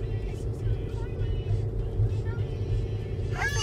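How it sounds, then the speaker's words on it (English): Interior road noise from a car driving through Yellowstone National Park, a steady low engine and tyre rumble with faint voices and a brief higher sound near the end. "We're driving a lot in the car."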